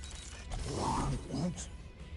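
A door creaks and clunks open with a mechanical whir in the Guardians of the Galaxy video game, a short grinding mechanism sound over a low background hum.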